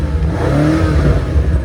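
A BMW M5 anniversary edition with M exhaust system growls in a deep, loud engine rumble that swells and eases, heard up close with no talking.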